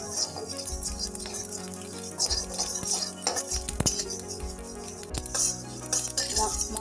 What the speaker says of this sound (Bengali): দেখো মশলাটা আমি ভালো করে ভেজে নিচ্ছি।